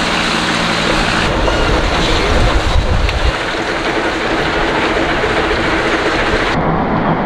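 A steady, loud rush of water and engine rumble from a boat on the Mekong River, continuous with no voices.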